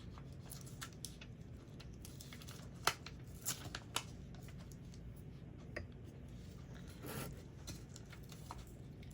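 Craft vinyl peeled slowly off its paper backing, making faint crinkling and soft tearing with a few small snaps and ticks over quiet room hiss, and no talking.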